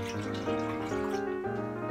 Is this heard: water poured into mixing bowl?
yes